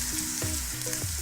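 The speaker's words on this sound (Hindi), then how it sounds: "प्याज़ों को भी मैं लाइट सा फ्राई कर लूँगी।" Onions frying lightly in a pan give a steady close sizzle, with a few short stirring scrapes and no talk.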